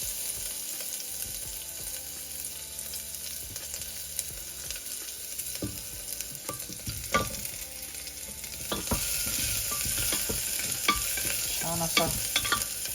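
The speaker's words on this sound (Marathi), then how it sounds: "झाल्यानंतर जिंजर गार्लिक चॉप टाकतो." Chopped ginger and garlic hit hot oil for a chicken dish and sizzle loudly and steadily up close, with stirring scrapes and clinks against the pan throughout and no voices.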